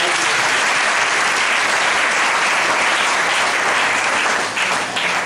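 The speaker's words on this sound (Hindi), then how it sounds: "जोरदार ताली बजाइए" A church congregation claps loudly in a service, a thick continuous roar of hands at close range that holds steady and eases slightly at the very end.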